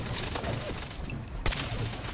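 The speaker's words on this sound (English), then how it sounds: "Oh, there's a machine gun turret." A machine gun turret firing in Fallout 4: dense, continuous rapid gunfire filling the scene, with a sharper burst near the end and no talk.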